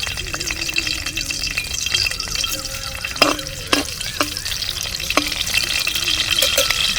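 Green chillies, ginger and garlic fry in coconut oil with a continuous close sizzle, broken by a few sharp clinks and scrapes of stirring.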